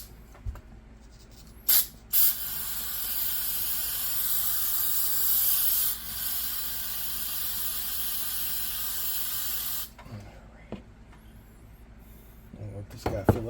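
Long, loud, continuous hiss of carburetor cleaner sprayed from an aerosol can onto the carburetor of a 1983 Kawasaki KL600 motorcycle, running about eight seconds, with brief clicks before and a few faint handling knocks after.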